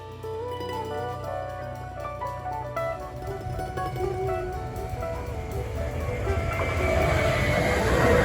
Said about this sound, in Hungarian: mivel mindkét irányból jön a vonat